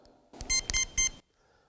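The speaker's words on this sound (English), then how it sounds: "I'll put it near my neck so you can hear it beep three times." Three short electronic beeps in quick succession from an Educator Pro900 dog training collar transmitter, close and fairly loud, followed by near silence.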